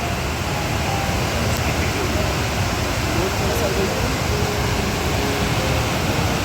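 A rushing mountain waterfall crossed on a high-altitude trek among glaciers, heard as a loud, continuous roar of water filling the whole scene.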